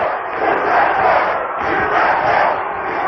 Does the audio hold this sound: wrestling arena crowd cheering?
yes